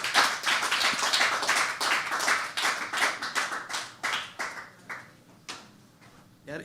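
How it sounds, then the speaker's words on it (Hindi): Audience giving loud clapping to welcome stand-up comedian Gaurav Kamat onto the stage, a close, rhythmic burst of many hands that slowly thins out into a few scattered claps. "जोरदार ताली से स्वागत कीजिए गौरव कामत"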